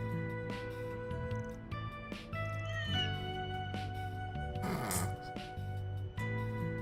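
A cat meows over and over in the video game Trails through Daybreak II, with drawn-out tonal calls and caterwauling over steady game music and a low droning background.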